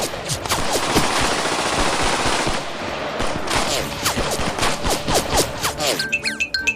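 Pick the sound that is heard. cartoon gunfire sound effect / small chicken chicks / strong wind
cartoon gunfire sound effect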